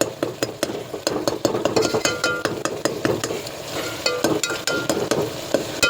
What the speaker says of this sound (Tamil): இப்போ நல்லா கொத்தி விடும்போது அது வதங்கும் சீக்கிரத்தில்.